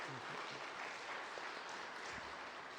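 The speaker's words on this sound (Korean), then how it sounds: "우리 뜨겁게 우리 박수로 감사한 마음 전했습니다." A church congregation at an afternoon worship service claps in thanks, a steady, fairly soft round of applause filling the hall for the whole clip.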